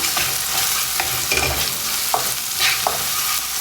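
Bay leaves, cinnamon and dry masala fry in an oil pan on medium heat, giving a steady close sizzle with occasional stirring scrapes and light clinks throughout.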